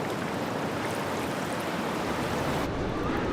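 Ocean surf rolls in a steady broadband wash of water, loud and continuous, with a rough windy texture and no voices.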